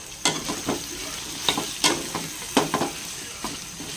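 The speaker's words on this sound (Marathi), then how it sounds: "आता परत एकदा वांगी फ्राय करायला ठेवते" Brinjal (eggplant) frying in a pan in a Marathi home kitchen, with a steady sizzle broken by sharp clatters from stirring at irregular intervals.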